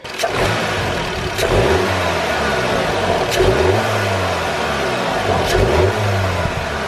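A VW Scirocco with a 2-litre turbocharged engine revs up three times in quick succession, each rise falling back to a low idle, heard close and loud with no talking.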